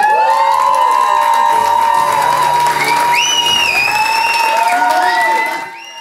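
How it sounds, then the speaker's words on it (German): Crowd cheering, whooping and applauding at a carnival enthronement of a new princess in a fools' hall, loud and sustained with shouts rising over the clapping before it fades at the end. "Großer Jubel ging durch die Narrenstube"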